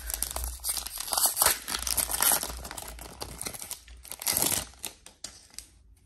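A 2021 Panini Prizm blaster box trading card pack being torn open, with loud close crinkling and tearing foil wrapper in irregular bursts that fade into a few smaller rustles, and no talking.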